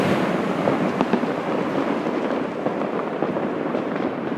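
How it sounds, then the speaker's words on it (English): New Year's fireworks over the Tiber River in Rome on a cold night make a dense, continuous wash of crackling and popping that stays loud and unbroken throughout. "Fireworks in the background."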